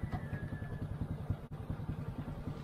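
A motorcycle being ridden, its engine putting out a steady, fairly faint pulsing low chug with a brief dropout partway through, and no talking.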